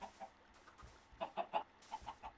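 Video game chickens cluck in short, soft bursts, a scattered cluster of clucks that bunch together near the middle, fairly quiet and close with no talking over them.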